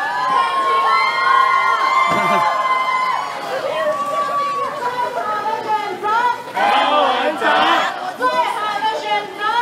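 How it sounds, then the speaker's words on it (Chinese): A crowd at Yuli's Xietian Temple cheers, shouts and chatters to welcome Taipei mayor Ko Wen-je, with excited voices, whistles and children yelling in overlapping waves, while an amplified announcer speaks over the din. "我们要用最热情、最热情的声音来欢呼我们横滨阿伯哦"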